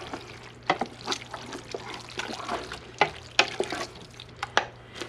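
Cooked noodles are stirred in a pot, producing soft, irregular wet squelches and scraping knocks, close and moderately quiet over a low background hum.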